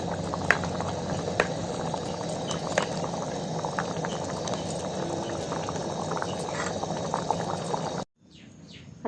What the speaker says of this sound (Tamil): இப்போது இதை நல்லா மிக்ஸ் பண்ணிவிட்டு ஒரு 5 மினிட்ஸ் கொதிக்க விட்டால் சின்ன வெங்காய குழம்பு ரெடி ஆகிடும்.